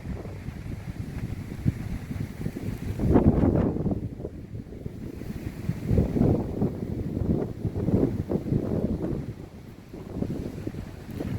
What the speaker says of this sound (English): look at the wind picking up